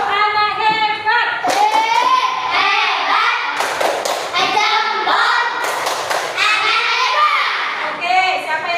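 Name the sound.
children doing the 'tepuk anak hebat' clapping chant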